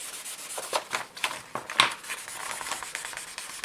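Cast silver being hand-sanded with fine 2500 and 3000 grit sandpaper, a soft close scratching rub in quick repeated strokes, faint and continuous with a sharper scrape midway, no talking.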